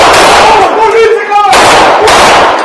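Gunshots in a recorded shooting incident involving a civil police officer, loud, harsh and distorted, rapid bursts of gunfire, with raised shouting voices mixed in.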